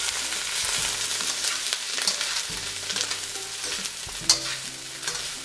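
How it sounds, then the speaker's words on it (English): Broccoli and cabbage stir-frying in hot oil, a bright steady sizzle with scraping and tossing stirs throughout, close and alone. "Get the oil coated on those and just stir frying them."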